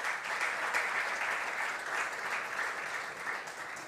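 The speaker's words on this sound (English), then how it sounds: "A big round of applause for them as well." Dense, steady applause from a large audience at a sports awards ceremony in India, a continuous wash of clapping hands sustained at even loudness throughout with no voices on top.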